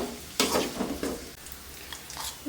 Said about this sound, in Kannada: ಈರುಳ್ಳಿನೂ ಹಾಕ್ಕೊಂಡು ಚೆನ್ನಾಗಿ ಮಿಕ್ಸ್ ಮಾಡ್ಕೋಬೇಕು ಚೆನ್ನಾಗಿ ಗೋಲ್ಡನ್ ಕಲರ್ ಅಂದರೆ ಲೈಟ್ ಗೋಲ್ಡನ್ ಕಲರ್ ಬ್ರೌನ್ ಆಗಲಿ